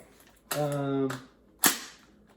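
A gun magazine is forced into its well with a grinding, scraping push, followed a moment later by a sharp metallic clack as it seats, heard close up.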